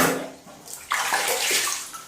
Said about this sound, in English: let all the water go down the drain